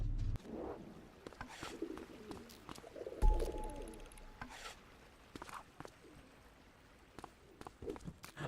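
Pigeon cooing in The Precinct, a police video game, soft low coos recurring amid scattered game effects and light footsteps, with no talk.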